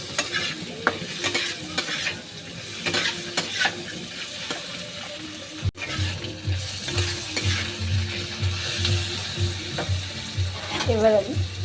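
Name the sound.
frying pointed gourd and potato in a pan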